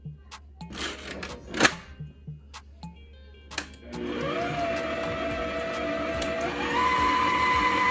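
Electric hand mixer whirring steadily through coconut cookie dough with egg, starting after a few scattered clicks and clatters, then running loud and continuous with a slight rise in pitch near the end.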